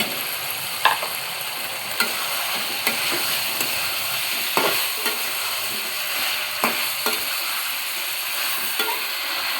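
Pumpkin and shrimp curry being stirred and fried in a pan: a continuous close sizzle with frequent scraping spatula strokes and clicks against the metal.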